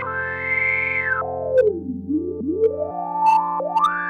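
A pure, whistling sine tone from a self-oscillating filter on a Vongon Paragraphs 2 synthesizer sweeps up, then glides down and back up in smooth swoops, loud and alone over a faint background.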